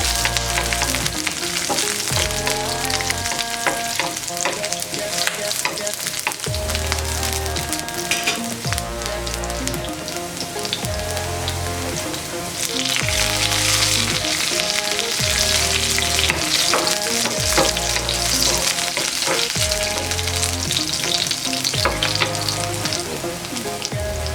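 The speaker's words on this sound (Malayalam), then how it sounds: "അപ്പോൾ നമ്മൾ പച്ചമുളകും കൂടെ ചേർത്തിട്ടുണ്ട് നന്നായിട്ടൊന്ന് മൂത്ത് വരട്ടെ" Garlic, ginger and green chilies fry in a hot pan with a loud, steady, close sizzle and crackle throughout, broken by periodic stirring scrapes; no one speaks.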